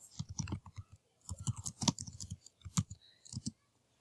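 Typing on a computer keyboard while entering a patron type in library software, heard as close, crisp key clicks in quick irregular bursts separated by short pauses, with no talking.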